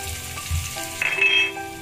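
Butter melting in a pan as the base of a risoles sauce with smoked beef and cheese, giving a soft steady sizzle and crackle, close and alone with no talk.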